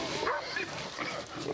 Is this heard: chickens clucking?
no